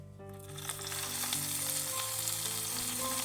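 Hot cumin tempering pours into a Kerala cucumber curd curry (tambuli); after a quiet split second a loud sizzle bursts up and keeps crackling densely to the end.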